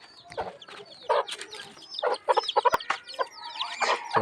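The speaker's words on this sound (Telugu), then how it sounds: "చిన్న కోడి పిల్లలు" Small white chicks cheep busily near a tribal village school where cooking is going on, a dense, irregular chorus of short piping calls, close and fairly loud, with no talking.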